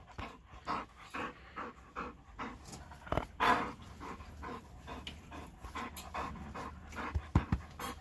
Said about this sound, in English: Oh, my dogs came to see me.